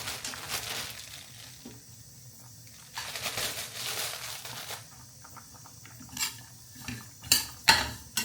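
Raw peanuts from the family farm rattle and scrape as they are tossed and stirred in a dry pan, a steady clinking patter with a few sharper knocks toward the end.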